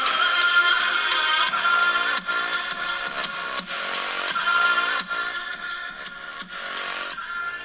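A test song plays through the speakers of an HTC U Ultra phone held close, with steady bright tonal music and rhythmic beats filling the whole stretch, no talking.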